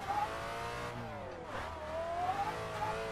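A turbocharged Nissan 350Z drifts in a racing video game, its engine revving and whining through rising and falling pitch with faint tire noise, steady and fairly quiet throughout.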